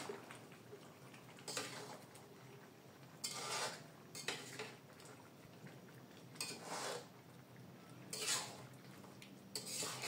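Pieces of roast are stirred and turned in a large wok over a low gas flame, heard as several quiet bursts of scraping and clinking spaced a second or two apart against a faint hiss.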